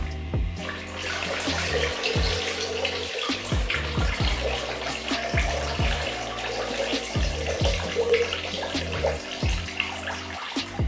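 Water poured and splashing out of a container after washing aloe vera, a steady running gush with irregular splashes, close and fairly quiet, lasting throughout with no talk.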